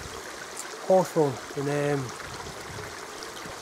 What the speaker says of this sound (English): But we're having to cross this little creek, or a little stream, and it's a beautiful little wood.